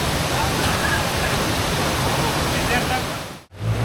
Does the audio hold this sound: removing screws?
no